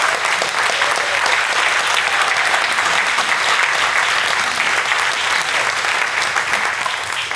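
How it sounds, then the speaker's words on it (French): Loud, dense audience applause at an environmental awards evening, a large crowd clapping continuously and evenly for over seven seconds without pause. "ça mérite un applaudissement."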